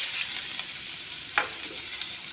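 Onion dropped into hot oil crackles in a strong, even sizzle that fills the whole stretch, with one brief stirring scrape partway through and no speech.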